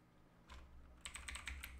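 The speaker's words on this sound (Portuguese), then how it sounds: "Abrir aqui a internet e eu vou digitar aqui" Typing on a computer keyboard, a short quiet run of light key clicks, close and alone, speeding into a quick cluster of taps near the end.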